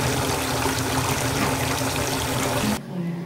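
Washing machine drum filling with hot water for a load of towels, a steady loud rush and splash of pouring water that cuts off abruptly near the end, leaving a quieter residual trickle.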